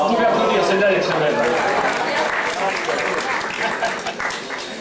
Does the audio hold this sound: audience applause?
yes